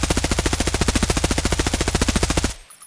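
Sustained full-auto burst from an HK rifle in Escape From Tarkov, fired while crouched: a rapid, even string of loud, close shots for about two and a half seconds, then an abrupt stop with a brief fading tail.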